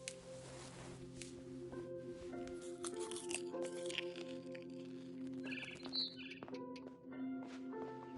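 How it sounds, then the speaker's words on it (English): A barn swallow in the game What Remains of Edith Finch chirps outside a window in scattered bright tweets and short trills over a soft, busy backdrop of game sounds. "Then I heard chirping outside my window. It was a barn swallow going back to her nest."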